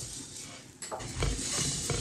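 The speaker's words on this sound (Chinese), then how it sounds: "接下来转小火，慢慢的翻炒，一定要不停的翻炒" Brown rice with red dates and shredded ginger is stir-fried over low heat in a pan, giving a soft dry rustle and scraping with a few light clinks of the utensil. The sounds are fairly steady, close up and without any talk.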